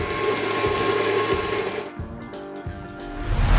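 A blender runs steadily at speed, whirring loudly as it purees a thick, creamy garlic dressing, the motor pitch dropping and shifting partway through before the whir rises again at the end.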